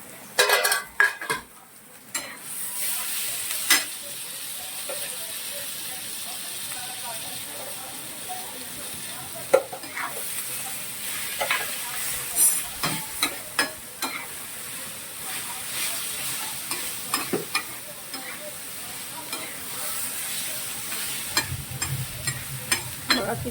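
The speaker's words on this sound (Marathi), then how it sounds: "आता मस्त ही भाजी परतून घ्यायची." A vegetable dish sautéing in a pan at home, with frequent clinks and scrapes of a metal spoon against the cookware over a soft, continuous sizzle.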